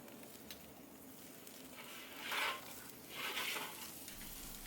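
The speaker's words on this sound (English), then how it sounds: "Go ahead and flip them and sear the other side." Snake River Farms picanha steaks sear on a grill with a steady, faint sizzling hiss and two brief louder flares, with no talking.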